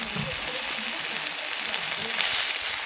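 Ground spice paste with turmeric sizzles in a hot pan for a Bengali rohu fish curry, a steady bright frying hiss with faint stirring scrapes throughout.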